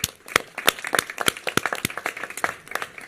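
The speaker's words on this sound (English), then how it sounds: "Let's give him a huge round of applause." Clapping from an audience at a public event with California's governor announcing homelessness funding, a scattered run of sharp claps over about three seconds, moderately close and without talk.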